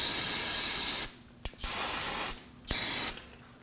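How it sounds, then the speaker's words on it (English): Brake cleaner from an aerosol can sprayed onto the front brake area of a 1993–2001 Subaru Impreza, three loud hissing bursts close by, separated by short pauses. "Spray the area down with some brake cleaner."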